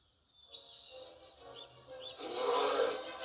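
Birds chirp and tweet in a calm ambient scene in the Narnia Prince Caspian video game. The calls are faint and scattered, with a soft rubbing rise toward the end and no speech.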